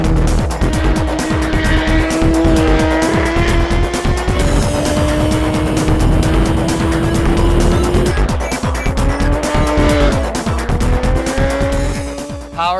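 A loud racing engine of a 2012 superbike on a race track screams at high revs close by, its pitch climbing and dropping through quick gear changes.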